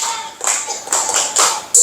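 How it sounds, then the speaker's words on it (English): A person claps their hands several times in a row, each clap a sharp, close, loud slap separated by short, slightly uneven pauses. "clap your hands five times"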